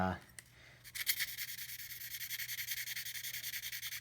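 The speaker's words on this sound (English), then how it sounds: "Right here I've just got a little bit of 800 grit sandpaper" Fine 800 grit sandpaper rubs in quick, rhythmic back-and-forth strokes against a Spyderco Cat pocketknife, close and fairly quiet, after a brief bit of handling at the start.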